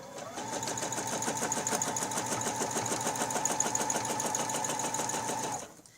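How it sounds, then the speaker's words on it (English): A sewing machine stitches curved lines through fabric guided by a ruler, running in one steady, rapid mechanical whir with even needle clatter for about five seconds before stopping; close and alone without talk. "Put down in the fabric and stitch your first two curves."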